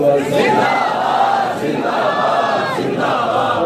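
A large crowd at a religious rally outside the Punjab Assembly chants slogans in loud, rhythmic unison, the massed voices rising and falling in repeated waves close by.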